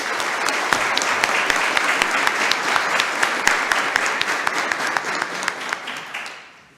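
Sustained applause from an audience at a solemn council session of Maria da Fé honoring former and current councillors, dense and steady with sharp individual claps on top, fading out at the end.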